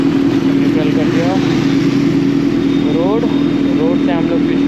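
A Kawasaki Z900 or Aprilia RS 457 motorcycle idles in neutral in rain mode, its steady low engine drone loud and close throughout, with faint chirping above it.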